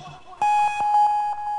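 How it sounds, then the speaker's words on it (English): A classic dub beep sample fires from a pad in Reason with added delay, a bright sustained electronic tone that repeats as fading echoes. "Classic dub beep."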